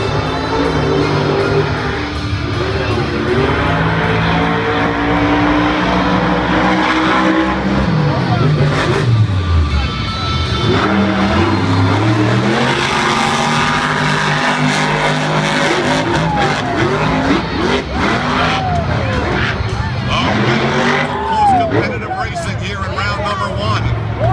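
Monster trucks race at the Monster Jam World Finals 2014 in Las Vegas, engines revving and roaring with tire squeals and skids throughout, under loud continuous commentary from an announcer.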